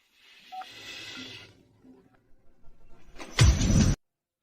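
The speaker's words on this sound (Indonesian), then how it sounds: "Aku akan telepon." A phone's keypad beeps once or twice, then a loud burst of sound comes near the end, heard up close with no voices.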